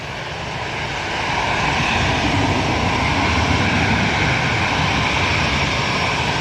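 An Etihad airliner taxis at Manchester Airport, its jet engines producing a loud, steady roar that swells over the first second and then holds close and constant.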